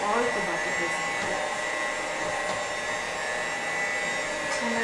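Electric hand mixer beating butter in a bowl, a steady continuous whirring drone at close range that runs unbroken throughout, with no voices over it.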